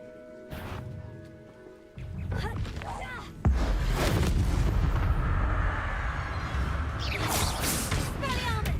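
Spell casts in Hogwarts Legacy combat, a series of loud whooshing blasts and crashing impacts that build from quieter bursts into a sustained, dense barrage, with a voice talking at moments.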